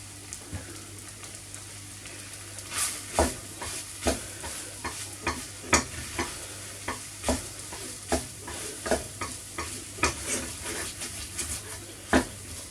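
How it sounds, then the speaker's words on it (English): A utensil stirs flour as it cooks in a pan for a cottage pie gravy, making a rhythmic series of scrapes and clinks over a low, steady sizzle, close and fairly quiet, with no speech. "You must cook the flour out."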